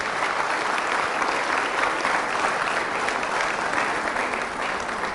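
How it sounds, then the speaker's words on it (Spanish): A church audience applauding during a Catholic inner-healing service, steady dense clapping that fills the room at an even, loud level from start to finish. "Fuertes aplausos a Jesús de Nazaret."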